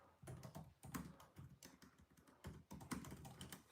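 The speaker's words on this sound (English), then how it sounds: "I'll remember that as I'll type up my notes here." Rapid typing on a computer keyboard, a close and steady clatter of keystrokes with a few brief pauses, heard alone without talk.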